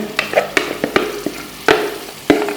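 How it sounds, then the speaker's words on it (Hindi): Spices and tomato paste fry for aloo gosht, a close, loud sizzle punctuated by a brisk run of spatula scrapes and knocks against the pot, then a few heavier strikes spaced further apart. "मसालों को अच्छी तरह भूनेंगे।"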